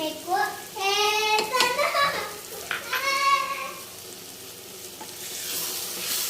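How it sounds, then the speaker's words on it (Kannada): Tomato curry with sambar powder sizzling and being stirred in a pan in a village kitchen, a steady frying hiss with scraping stirs, while children's voices chatter loudly close by. "ಬೇಳೆ ಸಾಂಬಾರು ಪೌಡರ್ ಹಾಕಿದ ನಂತರ ಸ್ವಲ್ಪ ಹುರ್ಕೋಬೇಕಾಗುತ್ತೆ"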